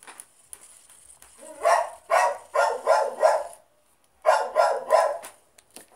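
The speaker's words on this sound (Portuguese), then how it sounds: "Esse cachorro idiota fica latindo." A dog barks in two bursts of rapid, fairly loud barks, about five in the first run and three in the second, with a short pause between.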